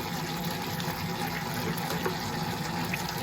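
Water is added a little at a time to 100% biga pizza dough as it mixes, making a steady pouring, splashing wash of liquid with a constant mechanical background.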